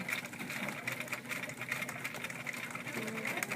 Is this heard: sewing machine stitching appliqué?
yes